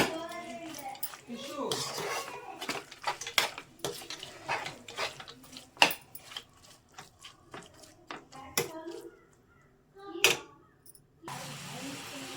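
Carrot laddu mixture being stirred in a pan with a utensil, irregular scraping and clinking knocks of varying loudness, a voice talking alongside.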